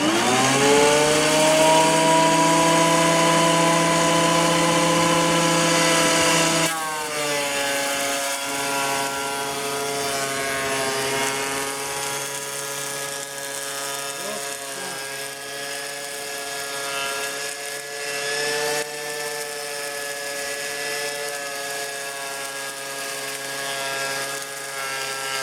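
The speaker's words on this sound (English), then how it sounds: "we're out here planing these deck boards with the Bauer planer" A Bauer planer runs loud and steady as cedar deck boards feed through, its high motor whine shifting pitch when a board engages and the blades bite, with no talking over the sustained machine noise.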